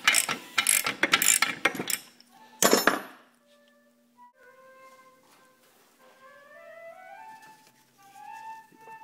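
A part is unscrewed during a rear spring and strut job on a 2000 Audi S4, giving a burst of loud clicking, rattling metal strokes up close, then quieter squeaky turning sounds with faint tonal squeals.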